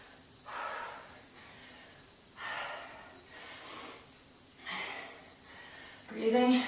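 Heavy, forceful breaths during a plie squat leg workout, three or four loud rhythmic exhales and gasps spaced about two seconds apart, close to the microphone.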